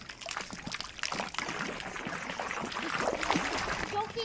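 Water trickles and splashes steadily out of a hole, close by, with small gurgles and drips, while voices talk faintly in the background.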